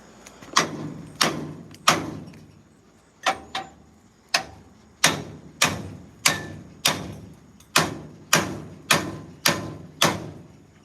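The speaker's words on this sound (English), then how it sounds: "That is stuck. Give me that hammer." Hammer blows on a stuck part of a New Holland Super 77 baler prototype, a dozen or so sharp metallic strikes in uneven bursts, some in quick pairs and runs, loud and close with no talk.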